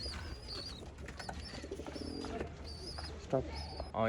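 Pigeons for sale at a Bangalore pigeon seller, several birds cooing softly and repeatedly nearby amid faint background chatter and chirps.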